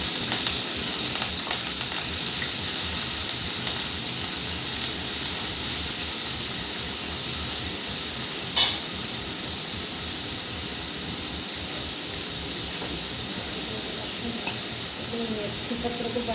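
Cut potatoes fry in hot oil, giving a continuous dense hiss and sizzle at close range, with one sharp clatter midway and no speech.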